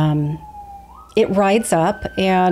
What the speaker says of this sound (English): that's a siren you're hearing outside